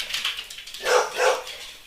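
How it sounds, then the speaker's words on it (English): A house dog barks at someone walking past outside, two bursts of barking near the middle of the clip over a steady high background hiss, fairly close and moderately loud. "Whenever anyone walks by, the dog thinks he needs to guard the house."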